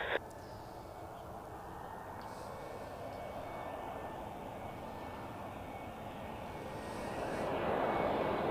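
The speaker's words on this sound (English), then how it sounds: "Emirates A380 in sight" An Emirates Airbus A380 at Zurich Airport gives a steady, broad jet rumble and roar that holds through the whole stretch and swells louder toward the end as the airliner draws nearer, with no talk over it.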